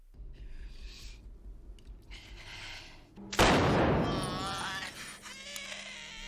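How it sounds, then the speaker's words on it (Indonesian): Pistol gunshots in a film scene: after quiet rustling and faint movement, a sudden sharp blast erupts and rings out with a long reverberant tail and bright ringing overtones, followed by low murmuring. "langsung tembakin pistol ke dirinya sendiri"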